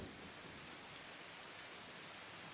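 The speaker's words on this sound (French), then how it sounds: "On n'entend que la pluie tomber sur la diligence et les chevaux qui hennissent." Steady rain patters on a stagecoach as a dense, even hiss with no gaps, fairly faint and without voices.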